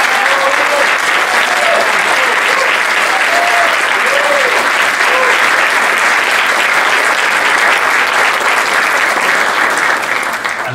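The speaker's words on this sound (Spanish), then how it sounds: "Quiero también pedirles a ustedes, como un reconocimiento muy particular, un aplauso" Audience at a university closing ceremony applauding, a dense, sustained wash of clapping that stays loud and even throughout, with faint voices underneath.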